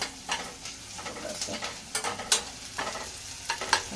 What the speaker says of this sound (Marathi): कांदा लाल होईपर्यंत परतून घेणार आहेस का थोडासा नरम